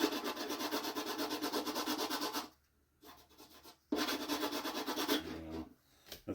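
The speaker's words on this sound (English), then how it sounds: "rub your fingers over it, make sure you're good, make sure you're done" Fingertips rubbing back and forth over the finished covering of a model airplane, a close, dry scratchy swishing in rhythmic strokes, broken by a short pause and then resumed.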